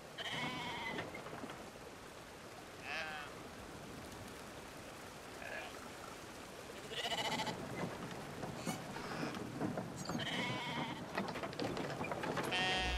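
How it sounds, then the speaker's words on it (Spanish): Sheep bleating repeatedly outdoors, several wavering calls spaced across the stretch, some near and some farther off, over a steady bed of rustling background noise with no talk. "la oveja."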